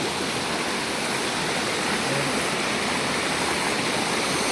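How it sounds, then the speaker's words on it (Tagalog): A waterfall pours onto rocks, giving a loud, dense, continuous roar of falling water close by, with no voices. "yung bagsakan ng tubig."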